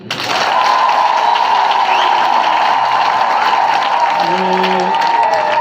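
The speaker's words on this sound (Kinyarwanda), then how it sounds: "nimubampera amashyi" A crowd at a public gathering in Minembwe claps loudly and steadily for the escorts, a sustained wash of applause with a faint tonal hum beneath it.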